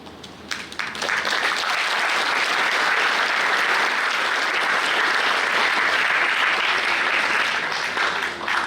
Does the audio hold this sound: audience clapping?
yes